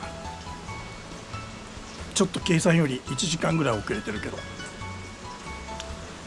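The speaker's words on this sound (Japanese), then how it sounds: "今のところ雨も、 本降りだけども、 降水量20ミリとか ぐらいを覚悟してたんだけど" Heavy, steady rain falls during a walking Shikoku pilgrimage near Matsuyama, a constant hiss running underneath someone talking close by.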